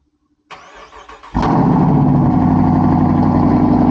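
A 2023 Dodge Charger engine cranks briefly with a whirring starter, then catches and roars into a loud, steady running rumble close by.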